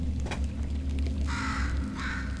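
Within the Portal 2 video game, a bird gives two harsh, raspy caws, each about a quarter second long, over a loud, steady low rumble of game ambience.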